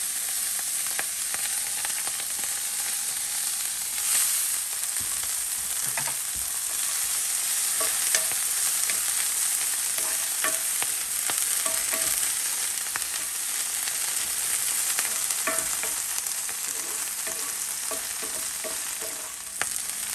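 Backyard-foraged vegetables and plant material fry in a pan, giving a steady loud sizzle throughout with scattered scraping and clinking of stirring.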